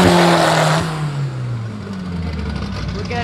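Car engine revving at a drag race start, a deep engine note rising in pitch and then easing off, loud and close, with someone talking over it.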